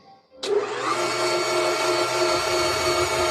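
A blender motor kicks on abruptly after a short quiet moment and whirs loudly and steadily for the rest of the clip.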